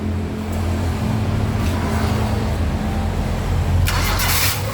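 Car engine that is hard to start when hot, cranking and running with a steady low rumble throughout, close and loud, with a brief hiss near the end.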